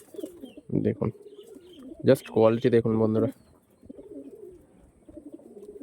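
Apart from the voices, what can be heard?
pigeons cooing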